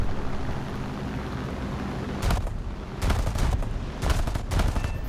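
Gunfire in the War Thunder video game, several sharp bursts of rapid shots over a low rumbling engine drone, fairly close and loud.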